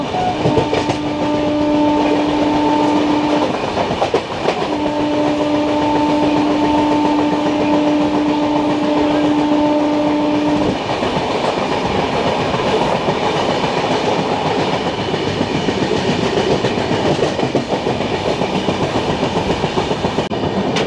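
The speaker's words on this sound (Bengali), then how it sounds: "আমরা ওভারটেক করছি এখন লোকাল ট্রেনটাকে" The 12857 Tamralipta Express runs on the Digha line while overtaking a local train: loud, steady rumble with rhythmic wheel clatter close by. A sustained horn tone sounds early, breaks off, then returns before fading into constant track noise.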